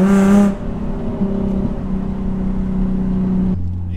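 Nissan 350Z launching hard with wheel hop, a loud steady engine drone holding under load for several seconds before dropping off, with no talking.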